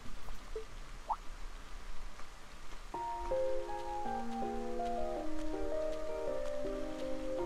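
Steady rain falls in a Legend of Heroes: Trails of Cold Steel game scene, a soft continuous hiss that runs throughout while gentle melodic background music enters partway and continues under it.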